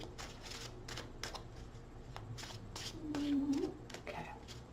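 Tarot cards are shuffled in a quiet room: a series of soft, quick riffling and tapping bursts spaced irregularly, close and faint, with a brief low tone partway through.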